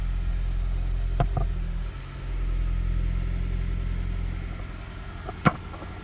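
A Toyota Prius engine with an overheating fault and stuck water pump runs steadily nearby, a low continuous idle hum with a few faint clicks and a brief tap near the end, no talking.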